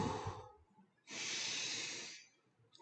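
Deep voluntary breathing during a respiratory physiology lesson: short breaths, then one long, loud airy inhale or exhale, heard close up without talk.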